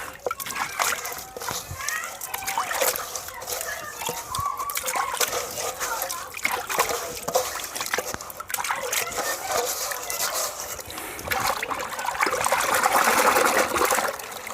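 Jaggery being stirred into cow urine in a container, giving a continuous close sloshing and splashing with trickles, while someone talks and a voice and a rooster are heard in the background.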